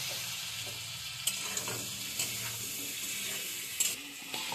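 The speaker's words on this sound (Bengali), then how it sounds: "নেড়ে চেড়ে আমি ভালো করে ভেজে নেবো।" Potato pieces fry in a pan with turmeric and salt, giving a quiet, continuous hissing sizzle, with a few soft scraping clicks as a spatula stirs them.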